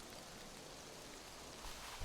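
Rain in the survival video game Beyond The, a soft continuous patter and hiss, faint and even, with a couple of slightly louder bumps near the end and no talk.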